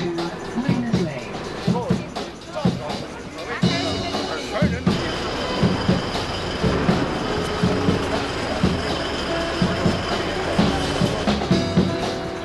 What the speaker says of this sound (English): This is the Piccadilly line service to Miners Lane.